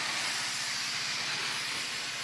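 A Shark Pro steam pocket mop releases steam in a continuous, even hiss that stays loud and close, with a faint low rumble underneath and no other sounds.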